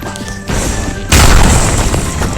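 A loud synthetic boom bursts in about a second after a tonal electronic hum, followed by a rumbling crackling tail, in the Roblox game The Strongest Battlegrounds.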